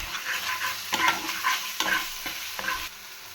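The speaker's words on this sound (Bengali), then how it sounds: "তা দিয়ে এটাকে ভালোভাবে কষাবো।" Spice paste with turmeric and chili powder stir-fried in oil with a steady sizzle, broken by several scraping strokes of a spatula at an even rhythm, close and fairly loud.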